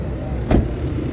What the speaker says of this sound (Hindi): अभी दरवाज़ा करते हैं बंद